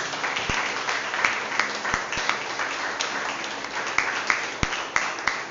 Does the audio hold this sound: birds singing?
no